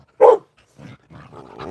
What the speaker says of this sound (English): What are you being so loud about